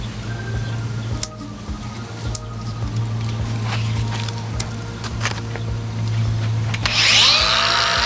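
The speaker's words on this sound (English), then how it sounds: "I knew I was gonna have to grind some of that off." A power grinder steadily wears material off a cracked boat rudder, a continuous close droning whine with a low hum underneath that swells into a harsher, brighter burst near the end.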